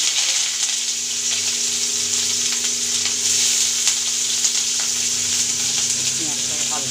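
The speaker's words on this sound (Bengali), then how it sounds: "এবার এর মধ্যে দিয়ে দেবো পেঁয়াজ কুচি রেখেছিলাম" Chopped onion frying in oil with nigella seeds and a dried chilli, making a continuous loud sizzle with occasional crackles and faint stirring, close up, with a steady hum underneath.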